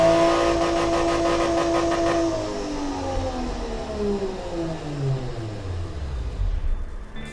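Loud car engine in the game Automation revving up then easing down, a smooth rising and falling drone that sounds synthesized, with no voices.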